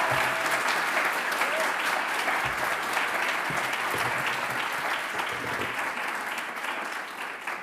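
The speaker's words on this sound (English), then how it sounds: "give a big round of applause to our musicians, the brass quartet of the University of Vienna Orchestra" Warm audience applause at a graduation ceremony for the University of Vienna Orchestra brass quartet, dense clapping that gradually thins and fades over several seconds.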